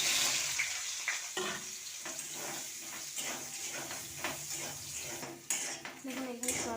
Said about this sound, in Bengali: কড়াইতে আবার তেল দিয়ে দিচ্ছি। সোয়াবিনটা ভেজে নেব।